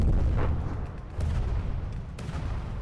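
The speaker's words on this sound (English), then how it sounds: "Taking friendly torpedo fire." Continuous low rumbling barrage of torpedo explosions and heavy naval gunfire in the From the Depths naval combat game, dense and booming with a few sharper blasts, no talking.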